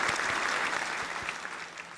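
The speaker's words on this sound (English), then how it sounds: "A round of applause for Lazarus" Quiet applause from a small crowd honoring a veteran, a brief steady patter of clapping that sounds somewhat distant and soft, with no voices over it.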